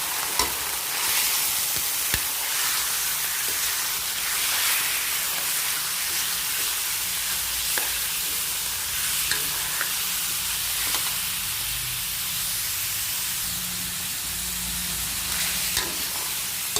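Onion and garlic sauté in hot oil until browned, giving a steady, close sizzle and hiss throughout with occasional soft stirring scrapes and clicks from a utensil in the pan. No one talks.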